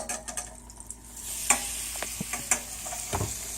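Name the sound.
shrimp sizzling in melted butter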